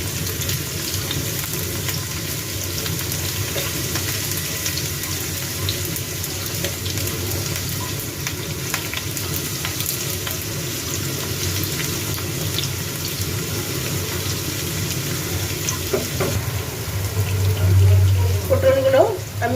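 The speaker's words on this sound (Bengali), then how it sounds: "পটলগুলো আমি ভেজে নেব এভাবে করে" Pointed gourd (potol) sliced and frying in hot oil with bay leaf in a home kitchen, a steady low hiss and crackle throughout, swelling louder with stirring scrapes near the end.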